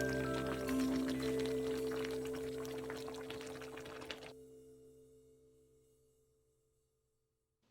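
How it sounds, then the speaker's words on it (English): Cornstarch slurry in water poured into simmering sweet and sour pork sauce, a soft steady trickle with faint bubbling that fades gradually and ends in near silence. "add a slurry of 3 tablespoons of cornstarch, mixed into a 1/4 cup of water"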